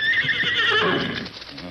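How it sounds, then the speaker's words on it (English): A horse gives a loud, close whinny in an old-time radio western, a single drawn-out neigh that wavers and fades over under two seconds. "Oh, it's a horse."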